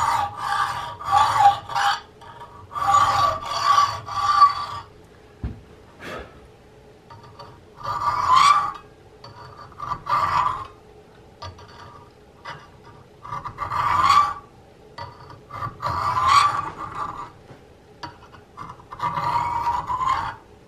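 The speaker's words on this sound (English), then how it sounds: "Because once I have that quarter inch or so, I can keep my saw in line as I'm going around." A hand saw cuts around a wooden rifle stock for the entry pipe of a Hawken kit, in repeated short bursts of raspy back-and-forth strokes, close and fairly loud, with brief pauses between groups of strokes.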